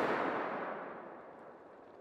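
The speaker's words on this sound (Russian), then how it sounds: "Внимание, внимание! Начинаем взрывные работы!" An avalanche-control blast in the mountains of East Kazakhstan: a deep, rumbling explosion decays slowly into the distance, its roar fading over a couple of seconds with no voices.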